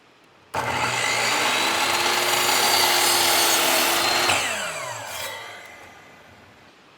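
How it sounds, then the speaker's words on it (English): A chop saw bites through wood for a DIY kids' Christmas gift: the motor spins up suddenly, whines steadily through the cut for about four seconds, then winds down with a falling tone. "which is going to be the chop saw."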